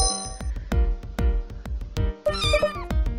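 Cats in a wholesome cat video game meow repeatedly over rhythmic, plucky game music, loud and close, with one higher, drawn-out meow near the end.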